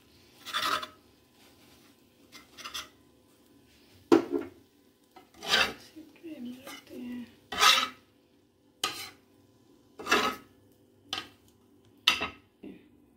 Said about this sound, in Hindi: ये मैं इसकी स्लाइस कटिंग कर रही हूँ